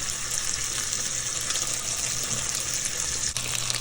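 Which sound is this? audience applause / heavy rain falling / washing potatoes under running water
washing potatoes under running water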